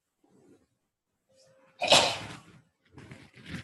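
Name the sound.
sneeze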